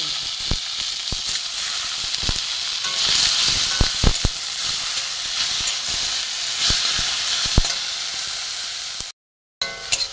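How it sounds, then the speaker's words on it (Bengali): Peeled, cleaned prawns dry-fry in a wok with no oil, giving a continuous loud sizzling hiss with scattered sharp pops and crackles, broken by a brief cut near the end. "চিংড়ি মাছ ভাজা হয়ে গেছে"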